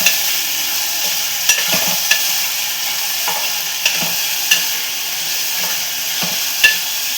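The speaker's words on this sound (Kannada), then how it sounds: "ಅದು ಎಲ್ಲ ಬೆಂದಮೇಲೆ ಸ್ವಲ್ಪ ಈರುಳ್ಳಿ ಹಾಗೆ ಟೊಮೆಟೊ ಸ್ವಲ್ಪ ಈ ಥರ ಬೇಯಿಸ್ಕೋಬೇಕು" Onion and tomato stir-fry in a pan for a simple Kannada home-style palya, with a steady sizzle under repeated sharp scrapes and clinks of a spatula against the pan at irregular intervals, close up and with no talking.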